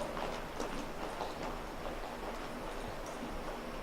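Rhythmic hoofbeats of a trotting horse, fairly even and continuous against a wash of outdoor background noise.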